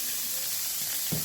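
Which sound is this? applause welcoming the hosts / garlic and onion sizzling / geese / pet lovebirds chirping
garlic and onion sizzling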